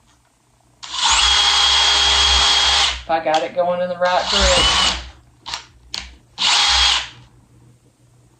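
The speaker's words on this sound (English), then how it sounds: "Then I also want to take my drill and drill 2 holes." A power drill bores holes into wood for a rustic picture: two long, loud, steady whirring runs, then short stop-start revs and a few brief bursts, with someone briefly talking between them.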